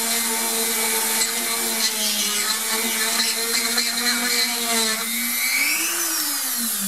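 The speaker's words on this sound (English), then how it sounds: "So that one's drilled through." A small rotary tool bores a hole through a finished polymer clay earring component. A steady, close, high-pitched drill whine runs throughout with slight pitch shifts, and the motor winds down near the end.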